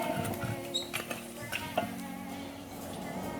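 Chicken feet fry in oil with a close, steady sizzle, joined by light stirring and scraping of a utensil in the pan, continuous with small clattering accents.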